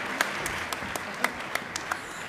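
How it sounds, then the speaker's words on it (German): An audience applauds at a party list election after a vote result is announced, steady clapping with a few sharper individual claps standing out, fairly close. "Applaus"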